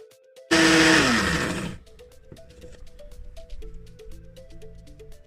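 An electric blender whirs loudly for about a second, mixing a turmeric and sea moss face mask, then cuts off, leaving faint background clatter.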